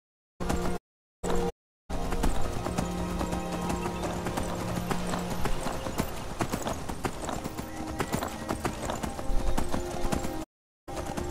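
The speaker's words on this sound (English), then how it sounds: "Horse." Rhythmic clip-clop of horse hooves at a steady pace, with a brief whinny, in a synthetic game-like mix from The Elder Scrolls V: Skyrim, with short gaps of silence.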